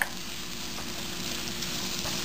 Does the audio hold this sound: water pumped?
no